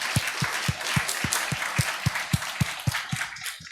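Church congregation at a Sunday service applauding volunteers: a broad wash of many hands clapping, fairly close and steady, with a regular rhythmic pulse of emphasized claps throughout, no talk.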